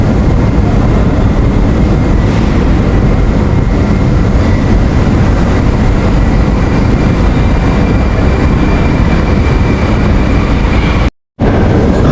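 A Moscow metro train rides toward the airport, a loud, continuous roar and rumble of wheels and motors from inside the car that holds steady for many seconds before cutting out briefly near the end.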